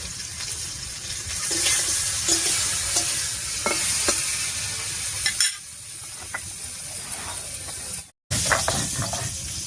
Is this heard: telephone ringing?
no